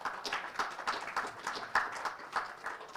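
An audience welcoming panel guests at an event on AI infrastructure claps in a scattered, uneven way. The individual claps are distinct and fairly faint, as if from a modest crowd.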